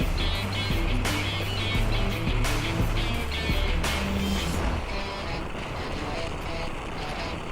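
An old two-stroke motorcycle being ridden on the road, a continuous buzzing engine drone mixed with rushing wind noise across the microphone, fairly loud and steady throughout.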